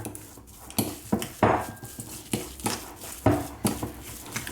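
A spoon scrapes and knocks against a bowl while chocolate chips are stirred into cake batter, a series of close, sharp clinks and clatters at an uneven rhythm with quiet gaps between strokes.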